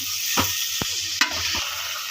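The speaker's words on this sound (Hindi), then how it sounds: "अब इन सब चीज़ों को अच्छी तरह से मिक्स कर लें।" Ingredients for tinday gosht, with tinda and tomatoes, are stirred together in a pot, giving a brief bright hiss with a few soft scrapes and knocks of the spoon.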